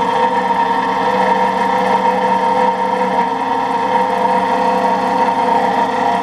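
An Allis-Chalmers motor in a rotary phase converter runs at steady speed, a constant mid-pitched electric hum with mechanical vibration, close and unbroken throughout.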